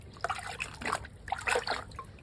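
A milking-machine lid dipped into a rinse bucket of water gives a few close trickling, sloshing bursts in quick succession, with no talk over them.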